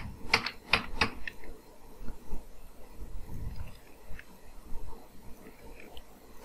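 Clicky keystrokes on a computer keyboard while entering text in Adobe Illustrator, a quick cluster of taps at the start followed by sparse, soft key presses, close and quiet.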